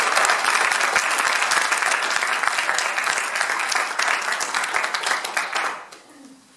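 Sustained audience applause at a business insights conference talk: many hands clap loudly and evenly for about six seconds, then fade quickly into quiet room tone.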